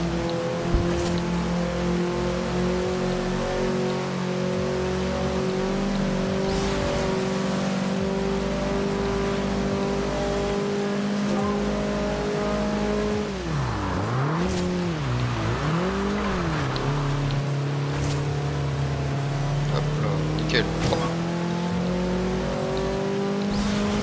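A Lamborghini in Forza Horizon 2 roars through a drift, its engine holding a steady high drone before the pitch dips and wavers as the car slides, then settles again, loud and continuous with faint tyre noise.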